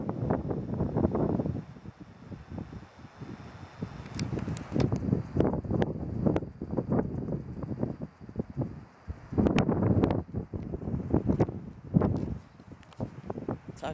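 Gusty wind buffets a microphone outdoors on a morning, with loud low rumbling bursts that rise and fall unevenly across the whole stretch.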